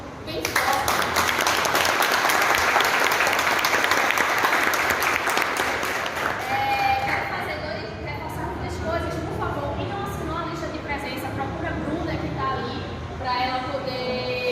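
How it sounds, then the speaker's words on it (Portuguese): Loud audience applause fills a debate on conservation of the Caatinga biome, a dense sustained wash of clapping that peaks early then eases slightly and continues steadily, with voices chattering underneath. "vou pedir para todos nós um aplauso bem forte."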